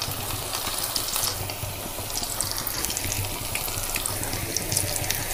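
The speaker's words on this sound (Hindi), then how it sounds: "अब इसमें एक एक करके मटर डाल के पकोड़े को डाल देंगे और गैस की आंच को मीडियम कर देंगे" Spinach and pea dal pakoras fry in hot oil over a medium gas flame, giving a steady, dense hiss and crackle that carries on evenly without any voices.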